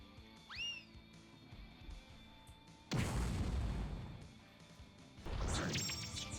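An impact bomb goes off in the Grandia 2 video game with two loud crashing bursts, each a sharp hit that rings out and fades, set apart by a few seconds and following a short rising chime.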